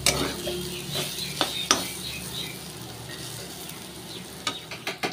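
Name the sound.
potatoes frying in pan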